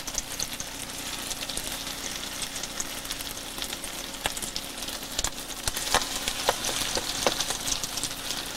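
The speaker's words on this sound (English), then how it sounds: "As long as you hear that sizzle, it's ready." Food sizzles steadily in hot oil, a continuous crackling hiss with occasional sharper pops, close and fairly loud, with no talking.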